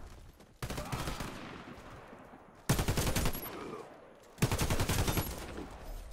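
Gunfire during a shootout in the Warface video game, with three separate loud bursts of rapid shots, each trailing off before the next, over faint background sound.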